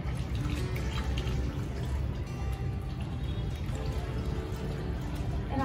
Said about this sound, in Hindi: लास्टली मैं इसको पानी देने वाली हूँ